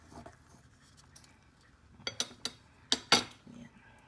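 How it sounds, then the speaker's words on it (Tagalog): Quiet metallic scrapes and clinks of a utensil stirring coconut milk in a pan, a few sharp taps near the end, with little else around. "Halo-haloin natin hanggat kumulo."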